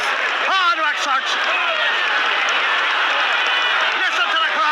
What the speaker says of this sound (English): Listen to the crowd. They're fired up.